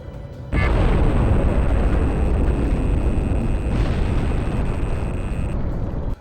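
A nuclear bomb detonates in the Ace Combat video game, dropped by a 1950s BM-335 Lindwurm bomber. It bursts in suddenly as a loud, sustained roaring blast with a thin high whine riding on top, then cuts off abruptly.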